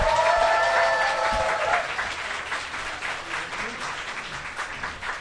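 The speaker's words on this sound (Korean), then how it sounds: "박수로 맞아주세요." Audience applause welcoming two DJs onstage at a live show, steady dense clapping across the whole stretch, loud and close, with a brief voice at the start.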